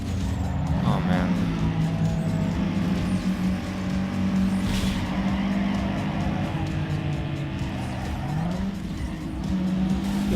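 Race cars in Need For Speed Underground 2 roar steadily along the course, with engines revving and tires squealing throughout, loud and continuous under a voice talking.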